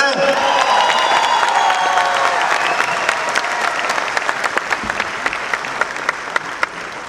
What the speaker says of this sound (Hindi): जोरदार ताली अपने लिए दिखा सकते हैं?